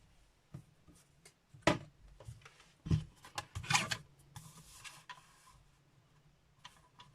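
Cardstock for a handmade card is cut on a trimmer, giving a few quiet clicks, taps and short scraping slides at close range in an otherwise quiet room.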